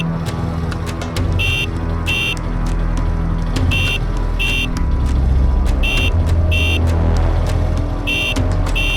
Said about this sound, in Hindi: वो बाइक वाला बार बार हॉर्न बजा रहा था